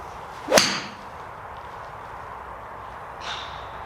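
A single sharp, clicky impact of a hollow-body Cleveland Launcher HB Turbo golf iron striking the ball, followed by quiet ambience and a faint softer sound later.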